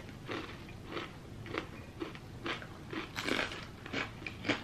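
Tortilla chips with salsa being eaten up close, a rhythmic series of crisp bites and crunchy chews coming roughly twice a second.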